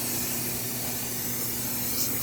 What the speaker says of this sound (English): I'm going to spray this braking surface with brake parts cleaner to get all the oils and grease off